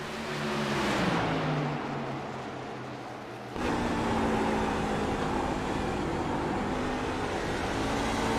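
A race car engine at the Cream City 150 short-track race runs at a distance, its tone dropping as it shifts gears, followed by a sudden louder surge as the next gear pulls.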